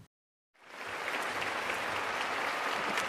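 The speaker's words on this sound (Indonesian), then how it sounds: "mereka mendapat tepuk tangan yang meriah dari penonton dan sebagian juri" A large audience at a music competition in an anime bursts into loud, sustained applause after a performance. Dense clapping starts suddenly after a brief silence and continues steadily.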